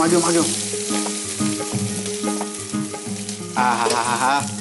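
Onion sizzles as it fries in a pan, a continuous crackling hiss under a steady layer of music, growing louder near the end.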